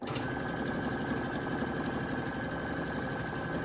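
A Brother Essence VM5200 sewing machine hums continuously up close while stitching a decorative stitch, a steady even whir with no breaks.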